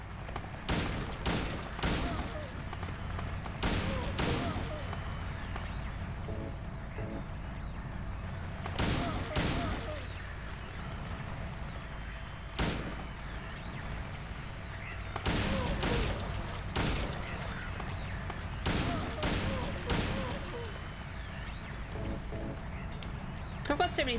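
Gunfire in the video game Silent Hill 2, with repeated sharp shots in irregular bursts over a game soundscape, and a person talking between them.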